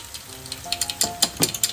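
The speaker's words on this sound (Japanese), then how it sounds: "脇からこう油を入れますね。" Olive oil poured around the edge of a hot pan of keema curry gyoza crackles and sizzles, a series of sharp bursts and spits growing busier over a couple of seconds, fairly close, with no talking.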